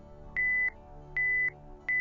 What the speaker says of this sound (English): Computers have numerous audible alarms that call your attention to important information